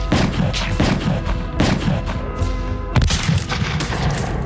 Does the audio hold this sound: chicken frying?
no